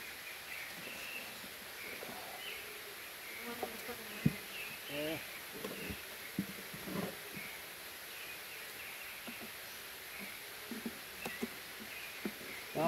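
A weak honeybee colony hums steadily during a hive inspection, suspected of turning drone-laying. The close, continuous buzz carries occasional knocks and frame handling noises over it.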